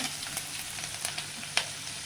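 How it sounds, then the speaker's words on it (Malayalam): Mustard seeds splutter in hot coconut oil for a fish curry, a low continuous sizzle broken by a few sharp little pops, close and fairly quiet. "കടുക് പൊട്ടിയിട്ടുണ്ട്"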